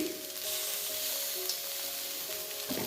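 Gobi manchurian, cauliflower pieces coated in tomato sauce, frying in a pan with a steady, close sizzle and hiss that continues evenly throughout, with faint scraping of stirring and no speech.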